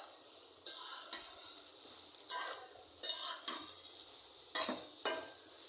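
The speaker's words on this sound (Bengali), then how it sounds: "এখন কষাচ্ছি" Poa fish with eggplant and potato being sautéed in a pan, with a quiet backdrop of sizzling and several sharp scrapes and knocks of a utensil stirring against the pan at irregular intervals.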